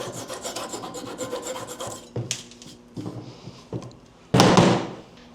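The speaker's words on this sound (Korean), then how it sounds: "필요 없는 부분을 한번 잘라 봅시다" Excess plywood being cut off a wooden roll bar for a Dodge Dakota pickup truck: about two seconds of rhythmic rasping strokes, then a few sharp knocks and a louder final burst.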